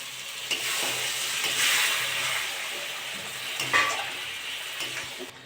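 A chhana potol curry sizzles and hisses loudly in a pan after water is poured in, a steady steamy crackle with a few stirring scrapes and no voices.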